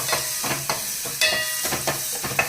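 Chopped garlic sizzles in melting butter in a hot pan for mushroom soup, with a steady frying hiss broken by several sharp stirring scrapes at an uneven rhythm, close and fairly loud.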